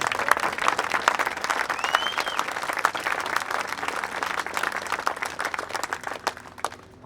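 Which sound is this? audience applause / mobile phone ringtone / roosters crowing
audience applause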